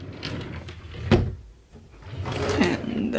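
A chest drawer, the second drawer in a bedroom, slides open with a brief scrape and soft knock, followed by light rustling and handling noise.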